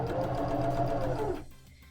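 A sewing machine stitches fabric held against a green tape guide, running in a fast steady whir close by for over a second before stopping.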